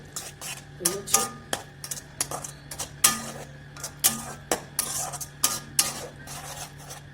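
Chicken keema is stirred into dry masala in a pan, a spoon scraping and clinking against the metal in quick irregular strokes over a faint background hum.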